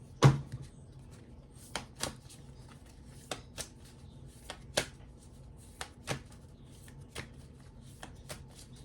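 A deck of self-care oracle cards being shuffled, a hard riffle at the start followed by scattered crisp snaps and flicks of card edges, fairly close and quiet with no talking.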